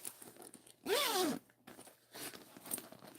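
Zipper on a bag with Michigan fabric pulled open in one quick, close rasping stroke of under half a second, with soft rustling handling before and after in a quiet room.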